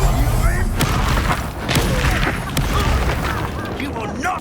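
Incendio fire spell blasting in the video game Hogwarts Legacy, deep booming bursts and crackling impacts rolling through a loud battle mix, with a voice shouting over the combat.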